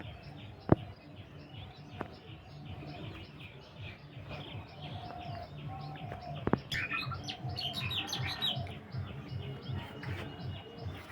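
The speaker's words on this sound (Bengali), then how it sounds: "শীতের দিনে সকালে পাখি চেঁচামেচি" Small birds chirp on a winter morning over a rooftop vegetable garden: scattered high, short tweets grow busier toward the end, over a low, steady rhythmic background hum.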